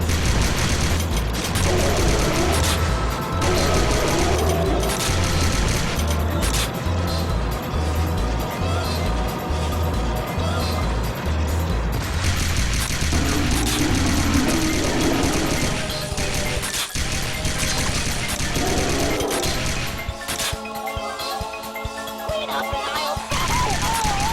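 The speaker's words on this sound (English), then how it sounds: "Machine gun." Rapid machine gun fire rattles in the CarnEvil arcade shooter, sounding as loud repeated bursts over busy game music and effects, with a heavy crash near the end.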